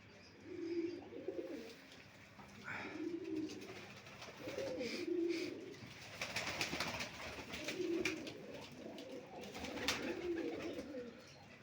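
Pigeons coo in a steady repeating rhythm, low throaty calls roughly every two seconds, fairly near, with faint background noise.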